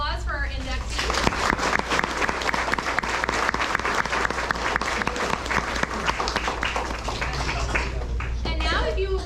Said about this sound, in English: And if we could have one final round of applause for our inductees.